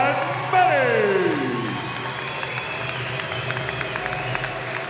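A boxing crowd applauds and cheers after a technical-knockout win in the fifth round, a broad roar of clapping under a loud announcer's voice that fades to lighter scattered applause.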